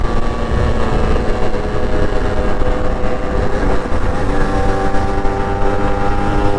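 Yamaha RXZ motorcycle fitted with a chamber exhaust, accelerating hard on the Mysore expressway after a gear downshift; a loud, continuous, rasping two-stroke engine drone with rising harmonics and wind noise, close and with no talk.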